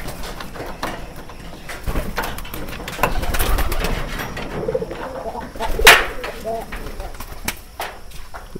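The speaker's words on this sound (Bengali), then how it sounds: "দেখেন সব কবুতর।" Pigeons coo inside a pigeon house, soft throaty calls under faint background noise, with a few wing flaps and one sharp clatter partway through.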